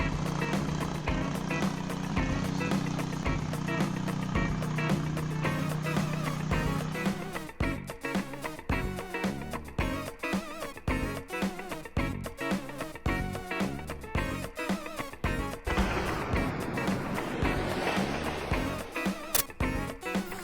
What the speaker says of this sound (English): After replacing the ATV's rear wheels with plows, a man rides through the garden